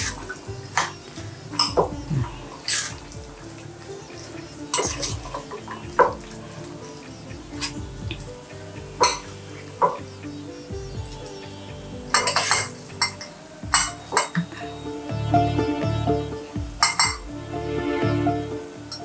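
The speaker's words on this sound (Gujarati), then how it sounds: "આ બધા ઇન્ગ્રીડિયન્ટ્સને આપણે પ્રોપર મિક્સ કરી લેવાના છે." Mango chutney ingredients are stirred and mixed in a bowl, with repeated clinks and scrapes of a utensil against the dish in an uneven rhythm, close and fairly loud, with no talking.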